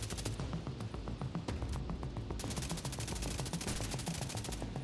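Gunfire in The Division 2 during a player-versus-player fight, a long run of rapid automatic shots at steady pace, loud and close with a dense rumbling background.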